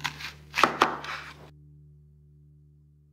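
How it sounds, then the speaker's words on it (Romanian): A large onion for risotto is cut with a knife on a board, giving a few close, sharp chopping knocks in the first second and a half, then near silence with a faint low hum. "noi începem să tăiem ceapa"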